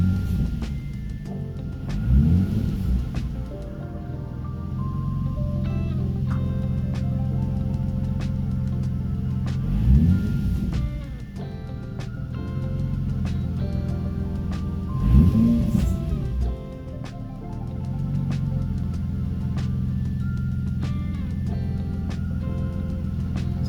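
A car idling with a steady low rumble, its engine blipped by the throttle up to about 2000 rpm three times, each rev rising and falling back to idle, close and alone.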